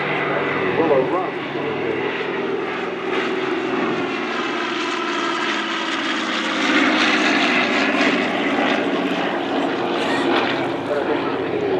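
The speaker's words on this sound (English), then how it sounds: "DC-3 coming in" A DC-3 propeller airplane drones steadily overhead at a WW2 weekend parade, its broad engine roar holding for the whole stretch with a slight swell near the middle.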